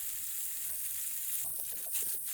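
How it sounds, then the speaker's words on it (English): Sausage-stuffed pork pieces searing in a pan, a loud steady sizzle and crackle throughout, with soft scraping and rolling sounds from the pieces being turned. "me rolling these around in the pan, getting a nice sear and browning on them"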